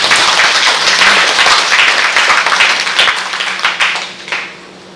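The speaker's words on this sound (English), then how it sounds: "So let's give them a big round of applause." Big round of applause from an audience at an International Women's Day event, a dense, loud wash of clapping that holds steady and then tapers off toward the end, with no talking.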